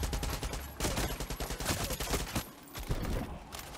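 Rapid volleys of gunfire in the video game Far Cry 6, sniper fire among them, crackle in dense bursts and scattered cracks that run nearly the whole time, loud and close, with a brief lull near the end.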